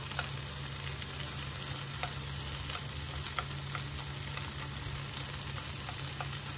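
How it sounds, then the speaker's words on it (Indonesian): Shrimp and ginger frying in a pan give a steady sizzle with scattered crackles and pops throughout. The sound is close and moderately quiet, with no talking. "Kita goreng satu sisi agar cepat matang ya."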